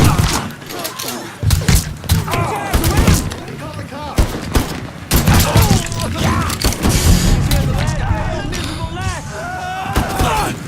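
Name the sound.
gunfire in the video game Mafia III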